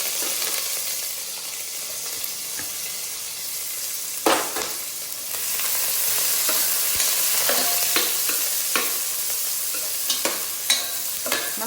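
Onions frying in a pan with mustard seeds for a fish curry, a continuous hissing sizzle with several sharp spatula scrapes and clinks at intervals.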